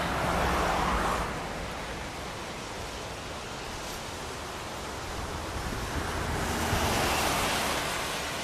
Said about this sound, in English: The river goes right past the road here.